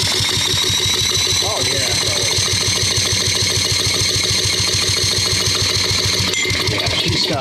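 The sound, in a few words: Briggs 200cc engine of Simplicity leaf blower running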